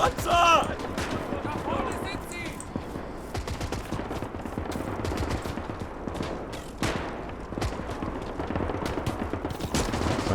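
Dense, continuous gunfire from the World War II shooter Gates of Hell on the Eastern Front, with rapid machine-gun bursts and scattered rifle shots crackling steadily at mid distance around a German command trench, with a voice heard briefly near the start.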